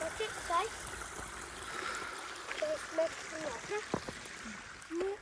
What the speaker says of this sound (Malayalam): കുഞ്ഞു വെള്ളച്ചാട്ടുണ്ട് പറയാ വെള്ളം ഒഴുക്കില്ലേ ആ ചെറിയൊരു അരുവി ഉണ്ട് പക്ഷെ അതിന് അലാക്കിന്റെ സൗണ്ടാണ്